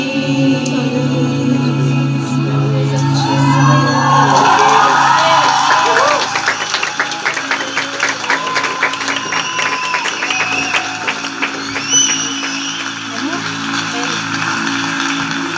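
Applause and whoops from an audience at a church cell group gathering, a dense steady clatter of clapping with shouts and cheers rising over it, loud and continuous, with voices calling out throughout.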